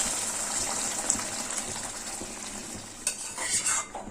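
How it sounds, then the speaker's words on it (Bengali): Hot water poured into a simmering potato and jackfruit-seed curry, a steady close gushing and bubbling hiss with stirring, a louder splash near the end. "এই পর্যায়ে আমি গরম জল দেব।"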